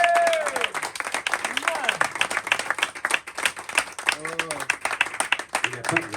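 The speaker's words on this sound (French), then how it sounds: "On peut l'applaudir," Lively audience applause with clear individual hand clapping at a jazz tribute concert, loud and near, mixed with cheers and someone talking over it throughout.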